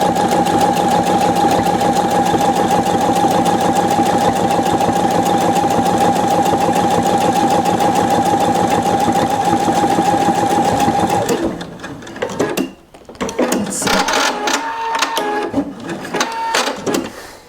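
A Pfaff 720 sewing machine stitches a buttonhole on interfaced fabric, running steadily and loudly for about eleven seconds before stopping, followed by handling noises and rustling.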